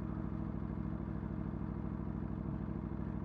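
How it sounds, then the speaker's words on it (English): Aprilia RSV4 motorcycle engine running steadily and loudly at close range, a continuous droning rumble with a rapid rhythmic texture; no distinct quick-shift pops stand out from the constant engine noise. "Don't know if the camera will pick up this popping when I do the quick shift."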